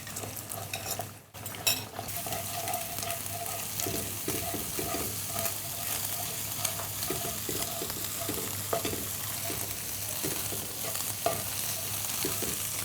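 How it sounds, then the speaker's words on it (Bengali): Egg stirred and fried in a pan over butter and garlic, a continuous close sizzle with frequent light scraping and tapping of a utensil against the pan throughout. "এখন আমরা ডিমটা দিয়ে দিচ্ছি।"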